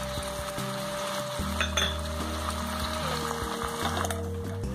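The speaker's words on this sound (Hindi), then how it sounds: "हम इसे अच्छे से मिक्स कर लेते हैं। पहले थोड़ा सा भून लेते हैं इसे।" Tomato puree sizzles and fries in a pan while being stirred, a continuous close crackle with scraping spoon strokes and light clinks against the metal, no voices.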